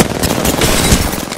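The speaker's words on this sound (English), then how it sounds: "They spotted me. I'm taking shots." Rapid automatic gunfire in the video game Apex Legends, a loud sustained burst of shots lasting over a second with no talk over it.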